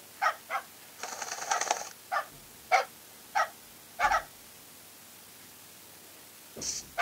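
Dogs bark in the Minecraft video game: a string of short, clipped barks in an uneven rhythm, one longer burst, then a pause before a final bark.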